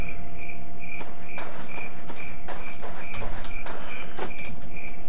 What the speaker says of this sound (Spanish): Suenan los grillos